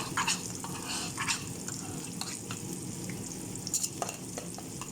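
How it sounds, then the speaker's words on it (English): Onions and paste cook in a pan for Bobo de Frango, a Brazilian dish. A soft, continuous sizzle runs throughout, with a few light stirring scrapes near the start and end. No one speaks. "we're going to add our paste, and we're just going to cook that until"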